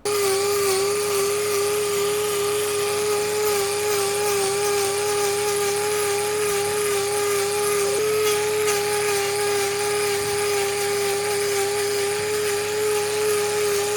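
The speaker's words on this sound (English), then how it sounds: "we started by dropping as much of that hoof as we could with the angle grinder" An angle grinder trimming a young cow's overgrown hoof, a loud steady high whine that holds nearly the same pitch throughout with slight wavering as it bites into the hoof.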